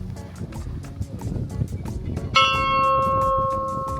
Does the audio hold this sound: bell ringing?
yes